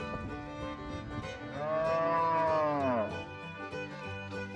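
Cows in a green grass field letting out one long, loud, full-throated moo in the middle, with quieter lowing and background farm noise before and after.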